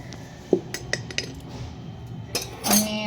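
A spoon mixes a spice mixture in a steel vessel, making sparse metallic clinks and soft scrapes, close and fairly quiet, ending in a brighter burst of clattering.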